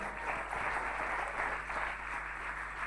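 An audience at a Congolese prize-giving contest applauds steadily, a dense even clapping heard from a distance at low level for the whole stretch.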